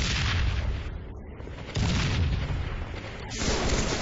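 A grenade blast in a competitive shooter match, a loud booming burst that cuts in sharply, dips briefly and swells again under dense game noise.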